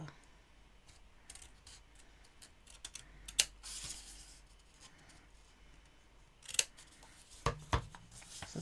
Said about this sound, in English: So we're going to cut off this piece here.